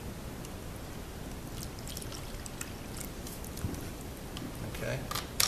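Tap water pours steadily into a cup, a continuous splashing trickle that holds at an even level and swells slightly near the end.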